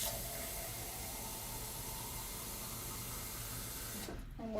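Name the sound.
water poured onto planted seed paper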